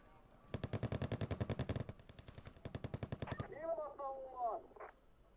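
Rapid bursts of machine-gun fire rattle from units in the Wargame Red Dragon real-time strategy game as they shoot at helicopters, followed by whooshing, whistling rocket or missile sounds at the end, loud and close.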